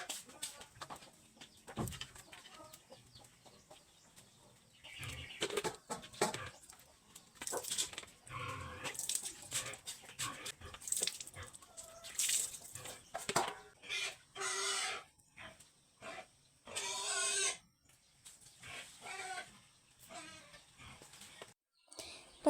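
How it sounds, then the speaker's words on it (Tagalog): Chickens cluck and chicks and other birds chirp in a quiet rural yard, scattered calls near and far in irregular bursts over a soft, still background, with an occasional dog-like call. "Maririnig nyo lang manok, sisiw, ibon, at baboy."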